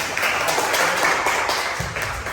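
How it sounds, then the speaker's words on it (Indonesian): A university class audience gives a short burst of applause during a teaching session, a steady, even patter of many hands throughout. "kita kasih tepuk tangan dulu ya untuk jawabannya"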